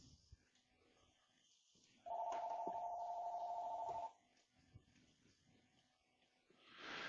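A Snom D7xx desk phone sounds a steady single call tone for about two seconds, loud and clear against a quiet background, with faint clicks around it and a soft rise of noise at the end.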